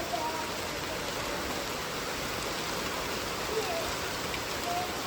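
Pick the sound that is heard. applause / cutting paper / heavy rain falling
heavy rain falling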